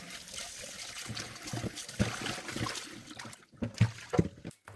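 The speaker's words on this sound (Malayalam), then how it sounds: "അപ്പോൾ ഉണക്കമത്തി എല്ലാം മുറിച്ച് കഴുകി എടുക്കുകയാണ്" Cut dried sardines being washed in water, giving irregular close splashes and trickling drips with soft handling clunks and brief pauses.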